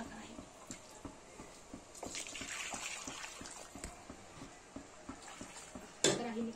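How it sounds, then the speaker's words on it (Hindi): Masala paste for a Bihari-style Rohu fish curry with mustard being stirred into water in a cooking pot, giving soft repeated scraping and stirring clinks with light liquid sloshing, followed by a sharper louder clatter near the end. "तो अब इस पानी में जाएगा ये मसाला"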